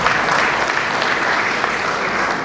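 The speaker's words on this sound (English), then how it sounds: "Please a round of applause." Audience applause at a bar association law week event, a dense, loud wash of clapping filling the brief moment evenly from start to finish.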